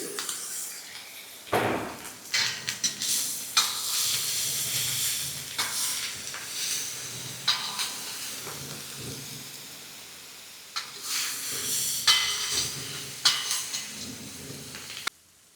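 Green chili paste and curry leaves hit hot oil in a pan with loud bursts of sizzling and spattering, several sharp surges that fade into softer hissing before flaring again, close and with no voices.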